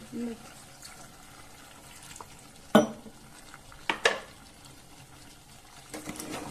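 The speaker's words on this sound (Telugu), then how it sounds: "దీన్ని మంచిగా కలుపుకోవాలి" A spoon stirs thick chicken curry gravy in a pan, giving soft wet churning under low background noise, broken by a few sharp clinks of the spoon against the pot near the middle, with faint talk.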